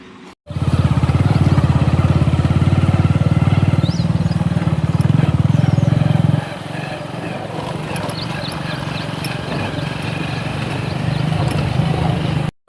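VST Shakti tractor idling in a farm field, a loud close low engine thrum with a steady rapid chugging pulse that eases somewhat partway through but keeps running to the end.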